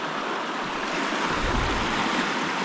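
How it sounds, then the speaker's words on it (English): River flowing in rural Nova Scotia: a steady, dense broadband rush of moving water fills the whole stretch, close and even, with a slight low rumble midway and no talking. "sit here, listen to the river"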